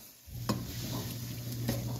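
Cajun trinity vegetables sizzling softly in a pan, a quiet steady fry with two brief stirring scrapes, no voices.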